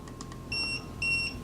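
A TST tire pressure monitoring system alarm sounds in a shop, giving two sharp, high electronic beeps about half a second apart, each with a steady tone.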